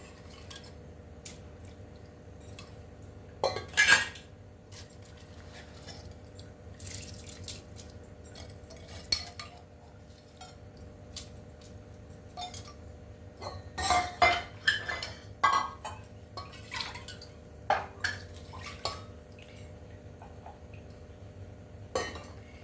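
Soaked sona masoori rice is tipped into a pot for tomato bath and stirred, with scattered clinks and scrapes of a metal utensil against the pot and quiet stretches between them.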